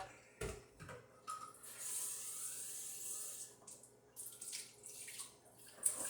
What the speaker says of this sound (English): Rinse out my cylinder.